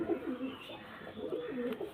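Pigeons kept for sale coo softly in a few low, rolling calls that overlap, close by at a quiet level.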